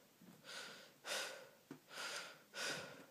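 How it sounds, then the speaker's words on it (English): Heavy breathing comes over a telephone line in a dark film scene: slow, faint, airy inhales and exhales in repeated swells, one with a brief catch, and no talking. "I can hear you breathing."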